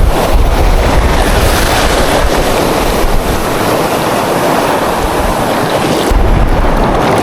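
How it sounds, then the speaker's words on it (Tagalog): Big ocean waves crash and roar continuously at a seaside fishing spot, with strong wind buffeting the microphone and no voices. "Ang laki ng alon mga master."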